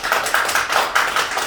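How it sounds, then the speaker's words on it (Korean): Applause from a church concert audience, steady rapid clapping in pulsing waves with no talking. "우리 자리를 빌려준 훌륭한 이 김현태 목사님을 위해서 기도하고 박수 한번 주시면 고맙겠습니다"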